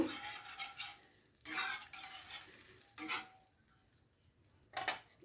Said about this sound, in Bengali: জলটা দেওয়ার পরে খুব ভালো করে নাড়াচাড়া করে নেব